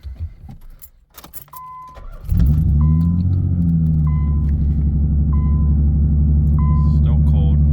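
A 1990 Nissan 300ZX engine cranks and catches after jangling keys, then settles into a loud, steady close-up idle with a low rumble, while a repeating electronic chime beeps at regular intervals.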